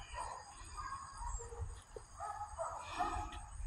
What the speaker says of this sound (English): Oh, you hear the dogs.